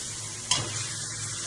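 Ginger garlic paste going into a hot pan for nalli nihari, a steady close sizzle with a sharp stir or clatter near the start, then continuous frying hiss.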